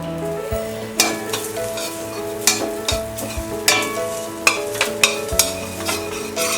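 Asafoetida goes into curry leaves frying in hot oil for South Indian molaga podi. A lively close sizzle runs throughout, broken by repeated scrapes and clinks of a stirring spoon against the pan.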